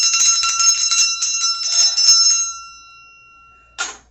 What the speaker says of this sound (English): So I'm going to ring the bell and clear the energy at this time.